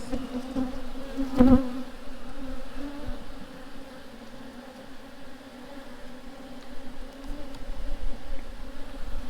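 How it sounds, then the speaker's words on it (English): A dense, steady hum of many honey bees buzzing close by on a hive frame in Jamaica, continuous and droning with slight swells in loudness. "This is another frame with bees."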